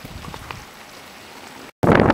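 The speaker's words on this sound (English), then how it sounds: "And Monday morning, it's raining." Monday morning rain falls near Highway 89 and a marina by the bay, a steady, fairly quiet wash of drops, then a sudden louder burst of close rain and wind noise after a brief gap.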